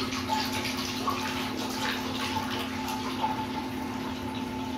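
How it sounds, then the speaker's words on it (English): Water runs steadily into a homebrew primary fermenter holding wort, a continuous broadband rushing and filling sound with a faint steady hum beneath, close and even throughout. "with the wort transferred into the primary fermenter, we're going to add our water to make 5 1/4 gallons"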